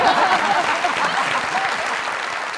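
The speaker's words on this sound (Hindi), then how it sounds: "जोरदार ताली" Loud, dense applause from a studio audience at a comedy show, a steady wash of clapping filling the whole stretch with little variation.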